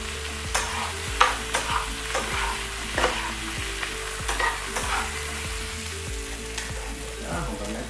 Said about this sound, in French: Lorsque notre oignon et l'ail commencent à devenir translucides, ça veut dire que c'est déjà prêt.